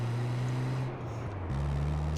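A car engine drives along in the Multi Theft Auto game, a steady low droning hum with a shift in pitch midway, continuous and close throughout.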